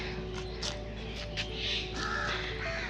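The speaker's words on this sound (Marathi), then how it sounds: "कावळ्यांचा खूप सारा आवाज यायला लागला आहे" Crows caw loudly and repeatedly in short, uneven bursts close by, with a steady outdoor background hum and no talking.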